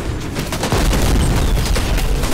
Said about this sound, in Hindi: धपा धप फायर वर्क झोंक देते हैं सारा